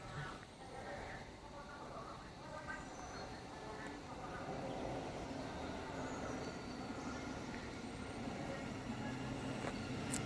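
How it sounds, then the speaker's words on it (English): A Thameslink Class 700 train from Luton to Sutton rumbles into Elstree & Borehamwood station, a steady low rolling drone that swells gradually as it nears, with faint high squeals. "And now approaching, getting ready to arrive, is 2 Victor 91, the 1638 Thameslink service from Luton to Sutton"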